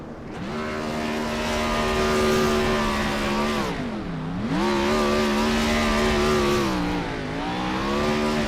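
A NASCAR race car roars through burnouts at Richmond in iRacing, its engine held at a high steady drone with two dips where revs drop and climb again, loud and close, without talk.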